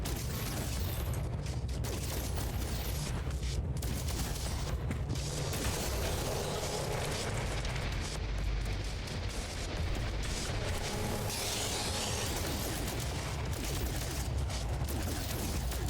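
Continuous weapon fire and mechanical blasts roar in No Man's Sky combat, a dense, unbroken barrage at steady loudness with no clear gaps between shots.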